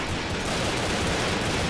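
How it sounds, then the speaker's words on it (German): Dense, continuous gunfire from Brick Force fills the moment, a loud, noisy burst of rapid overlapping shots with no pauses. "Au, von wo schießt da jemand? Ich höre Schüsse,"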